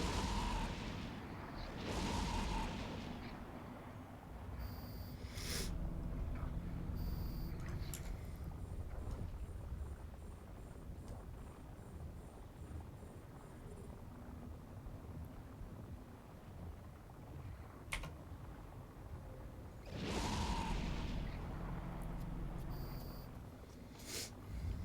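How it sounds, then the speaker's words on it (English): Missile bombardment in the space game Eve Online, a sustained rumbling barrage with heavy booming bursts near the start and again later, plus scattered sharp impacts over a continuous low roar. "Missile bombardment."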